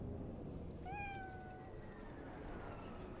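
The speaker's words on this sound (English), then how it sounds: "we'll pet the cat real quick" A cat in the video game Cyberpunk 2077 gives one clear, drawn-out meow as it is petted, heard alone over a steady background hum of game ambience.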